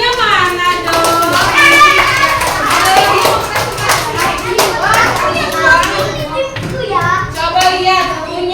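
Schoolchildren in a second-grade primary classroom, noisy with kids' voices and scattered hand claps; lively chatter and claps blend together steadily throughout, close and fairly loud.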